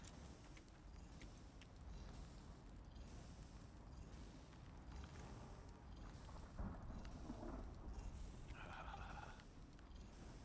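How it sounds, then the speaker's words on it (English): A storm rolls through in the survival video game Icarus, with low rumbling thunder, steady rain wash and creaking, faint overall and continuous with scattered cracks and a brief rising tone near the end. "Ooh, that is a nasty thunderstorm that's coming in."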